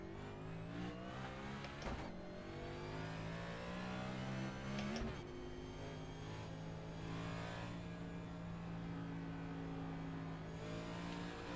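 A race car lapping Darlington in a racing simulator, its engine holding a steady loud drone with gear-change dips and revving pitch shifts throughout, no talk over it.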